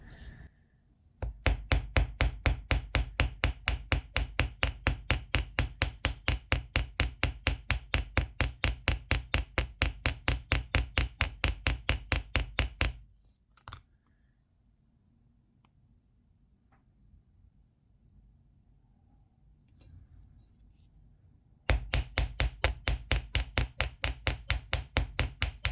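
A hammer striking copper wire flat on a metal block while forging a wire heart pendant, rapid steady metallic blows, loud and close, in a long run, then a pause, then another run.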